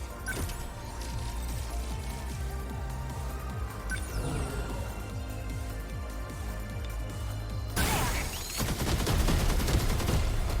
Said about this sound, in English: More sentry guns! Everywhere, sentry guns!